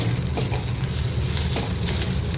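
Masala stirred with coriander powder in a hot pan for a quail egg curry, a continuous close sizzle with scraping stirs throughout and no voices.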